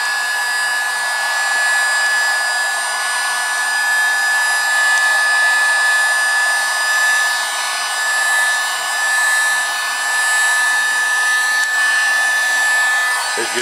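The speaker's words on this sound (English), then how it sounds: "I do use a heat gun to help speed the process up in between" A cheap Harbor Freight heat gun blows steadily while drying engine enamel on Rally II wheels, a loud, close, unbroken whoosh with a thin whine running through it and a slight swell partway along.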